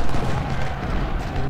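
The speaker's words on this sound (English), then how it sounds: "You guys shoot the artillery." Artillery fires in the Civil War strategy game Ultimate General: Civil War, with dense booming cannon reports and rumbling gunfire filling the short stretch at high volume.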